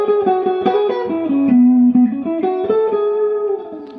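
An electric guitar lick from the mid solo of a song, live at the O2 London: a quick run of bent and sliding notes settling on a held low note, then climbing again, played alone with a warm overdriven tone.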